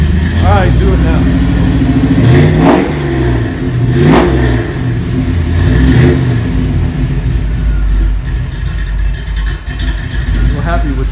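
Car engine revving in repeated bursts that rise and fall, loud and close, settling toward an uneven idle that needs adjusting; people talk over it.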